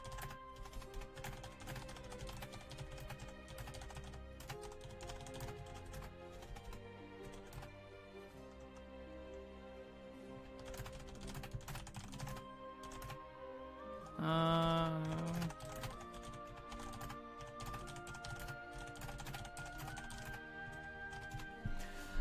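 Irregular clicking of typing on a computer keyboard runs throughout during an online card-game coaching session, under steady background music with a brief louder tone partway through.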